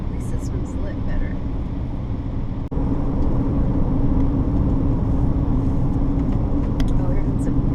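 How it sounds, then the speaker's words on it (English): Bus approaching on a road between Hovden and Eidfjord in Norway, a low rumbling engine drone that rises after a brief dip and stays loud and close, with a voice speaking over it. "here comes a bus"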